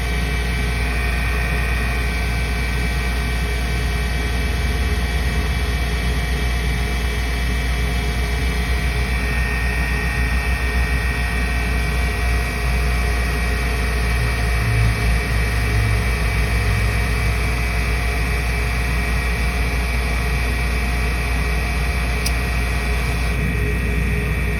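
A Trane gas package HVAC unit with an ignition fault runs steadily throughout, a loud continuous mechanical drone and hum with constant tonal whine, no voices.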